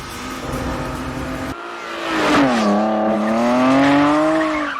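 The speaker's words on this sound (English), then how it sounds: "But Natasha McElhone in an E34, burning through Paris." A BMW E34 sedan's engine revs hard and climbs in pitch as it accelerates, loud and close, with a brief dip before pulling strongly again.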